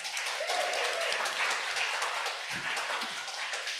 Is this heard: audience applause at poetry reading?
yes